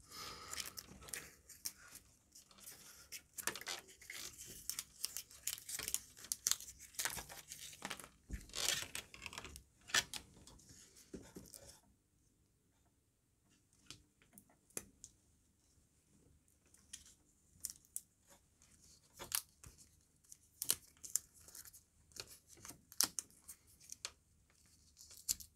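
Electrical tape peeling and crinkling off wiring inside a heavily modded TRS-80 Color Computer 1, with close, irregular tearing and rustling bursts for about twelve seconds, then quieter sparse clicks and crinkles.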